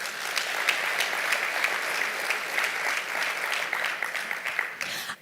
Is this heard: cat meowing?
no